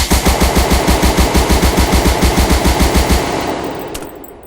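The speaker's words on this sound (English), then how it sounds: "I'm going to shoot the clouds." Rapid automatic gunfire from a weapon fired at the clouds in the video game Rogue Planet 2, a steady burst of loud evenly spaced shots lasting about three seconds, then a short echoing tail with no voices.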